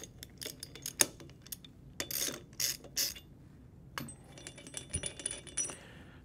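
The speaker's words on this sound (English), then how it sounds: "We'll grab our 3/4-inch ratchet and loosen them up accordingly." A 3/4-inch ratchet loosening the bolts on a globe valve, giving quick bursts of sharp metallic clicking and ticking with short pauses between strokes, close and fairly quiet.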